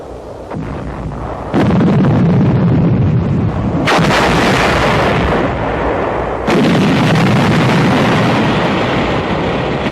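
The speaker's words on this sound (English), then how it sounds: "An explosive charge in a 5-gallon gasoline can is improvised to blast an enemy position." An improvised explosive charge in a 5-gallon gasoline can blasts an enemy position on Luzon, heavy booming detonations rolling in loud successive blasts over a continuous rumble.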